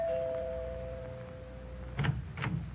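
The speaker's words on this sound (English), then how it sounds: "So here I go, ringing their doorbell." A house doorbell rings in an old radio broadcast: a sustained chime tone fading out, followed by two short, muffled knocks or clunks nearby.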